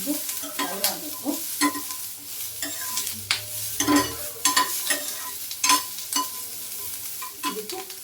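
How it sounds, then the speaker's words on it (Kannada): Onion and capsicum fry in a spoonful of oil in a pan, a soft sizzle under repeated close scraping and clinking of a spoon as the mixture is stirred. "ಇದನ್ನು ಮಿಶ್ರಣದಲ್ಲಿ ಇಟ್ಕೊಂಡು ಫ್ರೈ ಮಾಡಬೇಕು."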